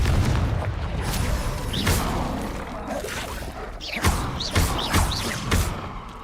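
Bombarda and Confringo spell explosions in Hogwarts Legacy go off as a string of loud booming blasts with whooshing bursts and crashing debris, several distinct hits in quick succession over a steady rumbling battle bed.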